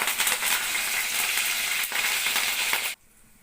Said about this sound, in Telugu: ఆయిల్లో ఇప్పుడు మనం మినపప్పు, ఆవాలు వేసుకుందాం